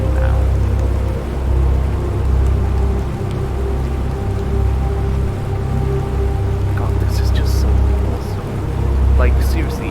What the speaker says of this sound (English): that's cool that we have rain now.